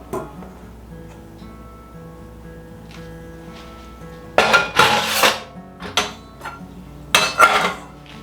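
A utensil clinks and scrapes against a bowl as flour mixture is stirred into peach pound cake batter, quiet at first, then a run of loud rhythmic knocks and scrapes.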